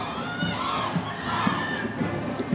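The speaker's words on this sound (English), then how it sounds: "You hear the crowd cheering?" Spectators cheering at a children's holiday parade as a marching band passes, a lively wash of shouting and whooping voices including children, continuous and moderately loud with no single voice standing out.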